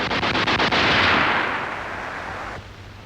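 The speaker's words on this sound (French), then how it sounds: "Visez et laissez partir la rafale" A submachine gun fires a rapid burst of about six sharp shots close by, ending in a long rolling echo that fades out.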